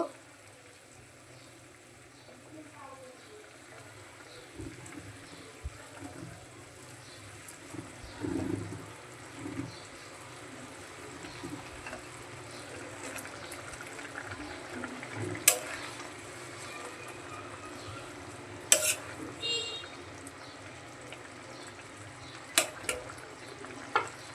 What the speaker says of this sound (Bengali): ঝুলটা ফুটে গেছে এখন মাছগুলো দিয়ে দেবো